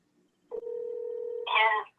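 A phone line gives a steady single tone for about a second, then a brighter, richer burst of tones follows. It is fairly quiet and heard on its own after near silence.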